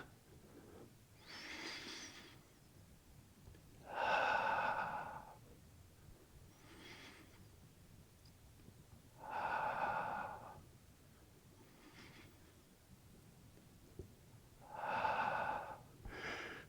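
Slow, deep breaths during a tai chi session: soft airy inhales and exhales come in long swells about every five to six seconds. The breathing is close and quiet, with no speech over it.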